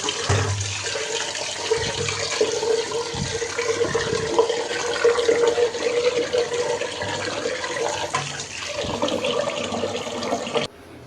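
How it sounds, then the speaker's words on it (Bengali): Rice soaks and is washed in water, giving a steady, close rush of running, splashing water for about ten seconds before it cuts off abruptly. "আর এই তো চালটাও ভিজিয়ে ধুয়ে নিচ্ছি"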